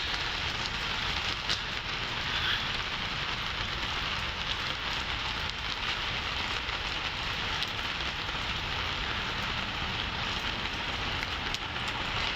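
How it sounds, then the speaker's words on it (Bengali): Heavy rain falling at night, a dense, constant hiss of drops hitting surfaces that holds steady and fills the whole scene without pause. "প্রচুর বৃষ্টি।"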